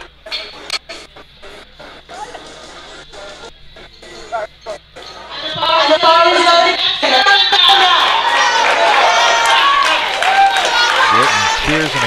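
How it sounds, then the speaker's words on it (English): At the 2022 IPF World Masters Powerlifting Championships, scattered clatter gives way to a loud, sustained wave of cheering, shouting and applause for a female lifter attempting a lift. "Getting cheers and encouragement from the crowd."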